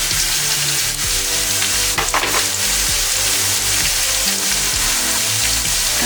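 Skinless mahi mahi fillet pan frying on top of onions and garlic, a loud, close, steady sizzle with crackling spatter and occasional scrapes and knocks from stirring.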